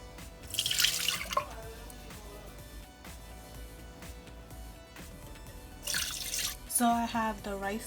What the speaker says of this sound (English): So all I'm gonna do now is basically just wash the rice